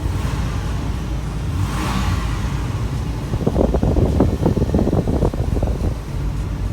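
A Ford Police Explorer SUV idles roughly, still running unevenly after a vacuum line was reconnected: a steady low rumble with breezy wind noise, turning into irregular uneven pulses in the second half.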